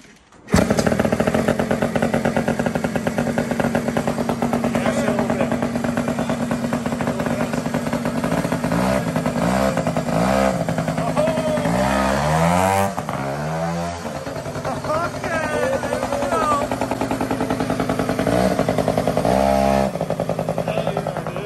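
A Yamaha moped engine fired up with nitrous after kickstarting, then running loud and close with a buzzing, rapping two-stroke-style note that rises and falls in revs over about twenty seconds.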